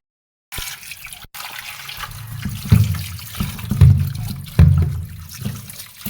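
Amla (Indian gooseberries) washed under running tap water, a steady close splashing flow that swells and surges as the fruit is rinsed, with no talk.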